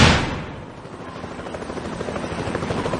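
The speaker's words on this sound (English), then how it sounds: "The Mi-8 helicopter thundered across the mountains." An Mi-8 helicopter flying over mountains, its rotor thudding in a steady, rapid pulse with a loud, close sweep at the start that settles into a continuous rumbling drone.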